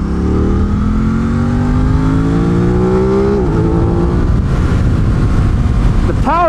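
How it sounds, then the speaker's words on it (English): A 2021 Aprilia RS660 sport motorcycle engine revs loud and close, its pitch climbing steadily through the gears, dipping, then rising again with quick blips near the end. "The power in the Aprilia is awesome. It zings up really, really nicely. It makes a great sound"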